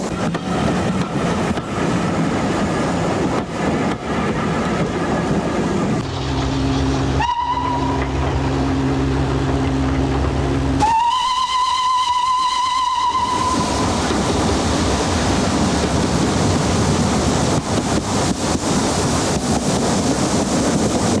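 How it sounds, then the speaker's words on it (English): A steam train pulls away from a heritage railway station toward Sheffield Park in southern England, with loud, close chuffing and rumble throughout. Two long steam whistle blasts sound partway through. "The guard waves the train off for the return down the line to Sheffield Park."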